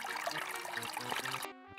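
A bathroom tap runs in the adventure game Maniac Mansion Mania, giving a steady, fairly loud trickle and splash that cuts off abruptly near the end.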